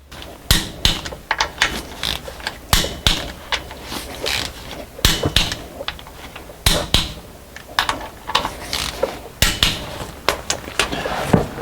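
A torque wrench ratchets on the bolt of an Allison transmission filter, fast repeated clicking strokes in uneven bursts, close and crisp, with no voices.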